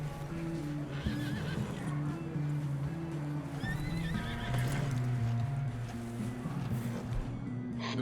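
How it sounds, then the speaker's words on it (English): Horse in the Red Dead Redemption 2 video game whinnies and neighs loudly while hooves clip-clop beneath, amid game music and ambience. "I got on a horse"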